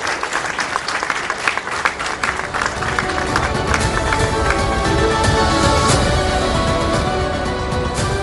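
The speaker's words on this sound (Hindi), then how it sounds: "जोरदार तालियों के साथ अभिनंदन करिए जेपी नड्डा जी का" A large studio audience at a News18 Chaupal event gives loud, sustained applause for BJP president JP Nadda, a dense continuous roar of clapping with some cheering mixed in.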